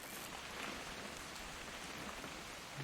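Steady rain pours in What Remains of Edith Finch, a constant close wash of falling drops with no voices.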